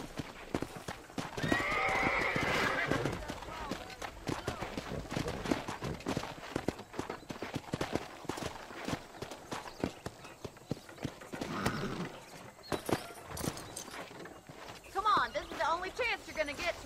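Horse hooves clip-clop steadily while riding in the video game Red Dead Redemption, with a horse whinnying and game characters talking over the hoofbeats throughout.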